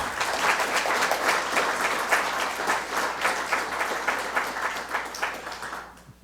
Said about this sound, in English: you need to give a second round of applause for Jayant and Rajni